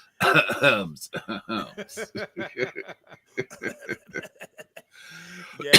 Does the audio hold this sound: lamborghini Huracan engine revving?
no